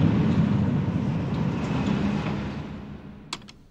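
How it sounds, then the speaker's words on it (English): Train noise in an Evangelion anime scene: a loud, dense rumble of rolling rail cars that swells and then slowly fades, ending with a couple of sharp clicks, with no voices. "A harsh transition hits as the sound of the train increases and consumes Shinji."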